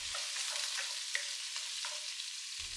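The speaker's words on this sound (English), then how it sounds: "I'm going to saute that for a minute until it's fragrant" Ground allspice sautéing in hot oil for a Jamaican curry tripe dish, a steady soft sizzle and crackle with faint stirring scrapes throughout, alone with no talking.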